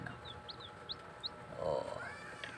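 Newly hatched Rhode Island Red and White Leghorn chicks give a few thin, high peeps in quick separate bursts, close and fairly faint, over a low background murmur.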